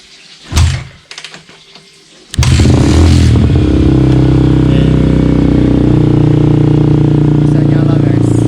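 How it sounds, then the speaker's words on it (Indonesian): A Yamaha Vixion motorcycle with a suspected injector or fuel pump fault is kick-started: a few brief kicks and clatters, then the engine catches and settles into a loud, steady running idle close by. "Tapi ini kita coba selah ya pakai Kickstarter."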